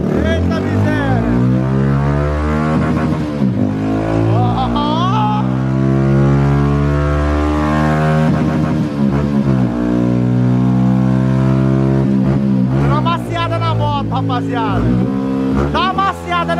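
A modified Honda Biz 125 motorcycle with an upgraded camshaft revs hard on a dynamometer, its engine note climbing and holding loud and close in sustained pulls, with voices talking over it.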